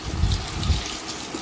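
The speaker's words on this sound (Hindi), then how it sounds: "पानी हम इसमें डाल रहे हैं" Water gushes and splashes steadily as it is poured into a tub, a continuous close-up pour with low rushing swells.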